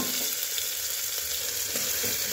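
Cumin seeds sizzle steadily in hot oil while cooking matar mushroom in a village kitchen, a dense, even crackling hiss heard up close and alone for a couple of seconds, no talking.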